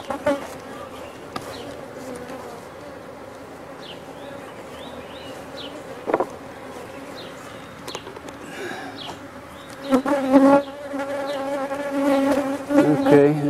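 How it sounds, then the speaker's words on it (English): A colony of bees hums steadily around their hives, a dense, continuous drone with individual insects darting close past, growing louder and busier in the final seconds. "These bees, you can hear them"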